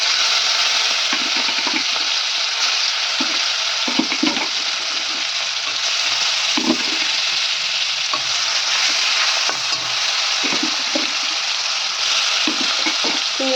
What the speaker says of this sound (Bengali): তো চিংড়ি মাছটা দিয়ে দেবো এখন